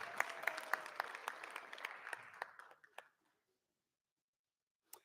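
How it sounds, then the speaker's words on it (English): Applause from an audience at a school board meeting, a dense round of clapping that thins out over about three seconds into a few scattered claps before falling silent. "Another round of applause for Oliver."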